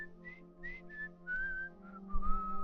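A voice imitates a little whistle, giving a string of short, thin whistled notes, some rising and some held, heard close and alone in a quiet room.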